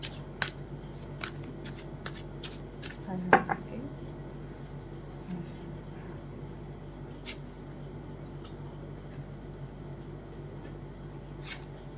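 Tarot cards are shuffled and handled in a series of brief, crisp riffles and taps, scattered irregularly across the stretch over a low, quiet background hum.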